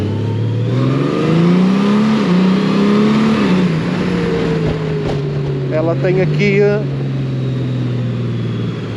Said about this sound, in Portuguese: O motor aqui, se nós puxarmos um bocado por ela, pá, faz um barulho espetacular.